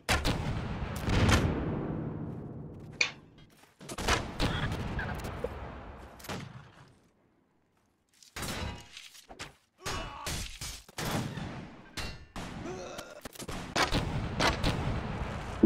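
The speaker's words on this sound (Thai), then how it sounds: "ยิงเปิดทางให้เพื่อน" Musket volleys fire in Mount & Blade Warband. Loud, echoing shots and fusillades come in bursts with booming decays, broken by a brief silence before scattered rapid cracks resume.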